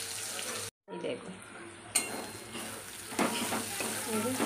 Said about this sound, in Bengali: তেল গরম হয়ে গেছে, এই রসুন ফোড়ন দেবো, তারপর লাল লাল হয়ে গেলে পেঁয়াজটা দেবো।